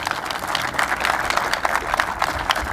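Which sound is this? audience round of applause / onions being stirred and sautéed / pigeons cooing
audience round of applause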